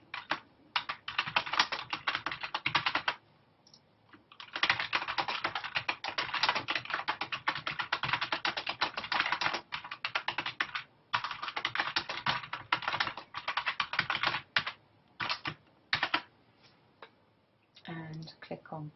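Someone types a discussion title on a computer keyboard in rapid, dense bursts of clicking keystrokes with brief pauses, close and clear, and a voice speaks near the end.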